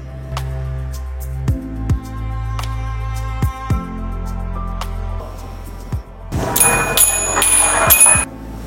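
Small bells struck one after another as a ball rolls down Galileo's inclined plane, each a bright metallic ding with a lingering ring, spaced at widening intervals, ending in a louder jangling cluster.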